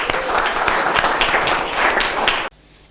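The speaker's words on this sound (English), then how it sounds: "A huge round of applause for the students of BBADM," A campus audience applauding the BBADM students at a first impression day event, dense clapping from many hands at a steady loud level that cuts off abruptly into near silence.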